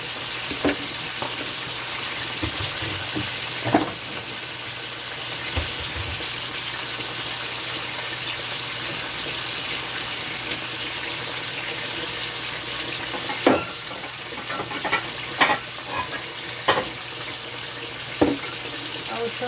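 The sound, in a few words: bell peppers, garlic, ginger, okra and carrots frying in pot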